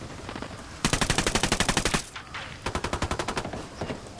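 Automatic rifle fire in Tom Clancy's Ghost Recon Wildlands, two loud rapid bursts of evenly spaced shots, each lasting over a second, separated by a brief pause and followed by a single shot.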